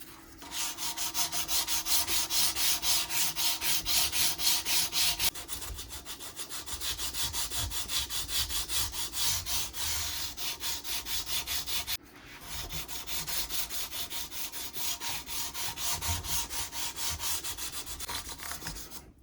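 Guitar frets on a Dimebag Darrell replica guitar being sanded and polished across their faces, working up through fine grits from 1500 to 12,000; steady continuous rubbing and scraping strokes, close and fairly loud, in three long passes with brief pauses between.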